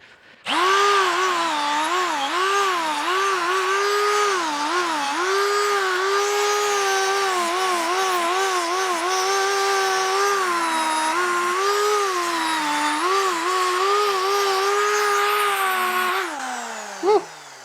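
A powered sanding tool whines steadily for a long stretch, its pitch wavering as it bites into material, then cuts off abruptly near the end.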